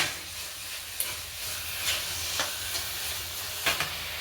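Carrot halwa being stirred in a pan, a soft continuous sizzle with occasional scraping clinks of a spoon against the metal, fairly quiet and close with no talk.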